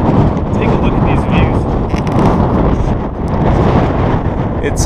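Strong wind buffets the microphone on the summit of Steptoe Butte, a loud, continuous rumbling roar with gusty surges and dips, close and overpowering, and no clear talking.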